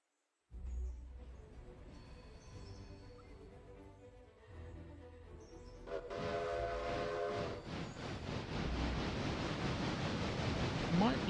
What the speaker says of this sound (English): Why do they want a train full of ballast?